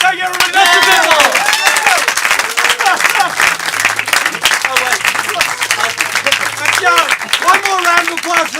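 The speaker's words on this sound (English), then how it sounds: "One more round of applause for those excellent stories by Dave Thomas." A live audience at a storytelling show claps steadily and densely throughout, with a few cheers, while a host keeps talking over the applause.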